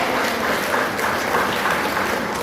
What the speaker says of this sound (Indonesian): Nah, tepuk tangan yang mendapatkan gelar.